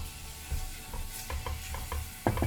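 Mirepoix of mixed chopped vegetables sizzles in a pan for chicken parmigiana, a steady frying hiss broken by several clattering stirs, close and alone without any talking.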